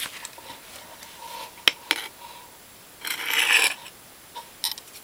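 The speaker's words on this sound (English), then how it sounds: "a nice fine grit diamond sharpening stone" A knife blade rasps across a fine grit diamond sharpening stone built into the back of the knife, a few short scraping strokes, close and dry with quiet gaps between.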